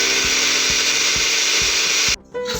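An electric grinder whirs loudly as it grinds pieces of bread into breadcrumbs, a dense continuous roar with rhythmic thumps of chunks tumbling in the jar, cutting off abruptly near the end.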